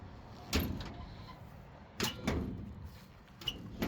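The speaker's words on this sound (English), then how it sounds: "had to get that hood shut" An old truck's hood slams shut with a sharp thump, followed by a couple of softer clunks and rattles, at a quiet level against light background noise.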